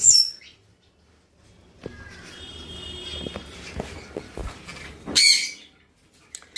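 Pet black-capped conures, kept alongside cockatiels and budgies, give a few sharp chirps and squawks at close range, separated by quiet gaps with faint rustling, with a louder burst of calls toward the end.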